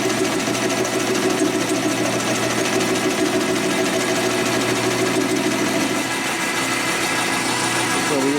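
A milling cutter machines a transmission part for a 1961 Harley-Davidson Sportster XLCH, a continuous loud buzzing and chattering whir of metal cutting that runs without pause throughout.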